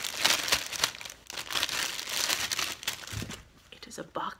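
A subscription box package is cut open, with close crinkling and tearing of packaging in bursts, mixed with a person speaking.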